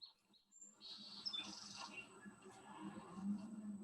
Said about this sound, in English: This is a song sparrow